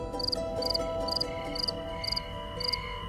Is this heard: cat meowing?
no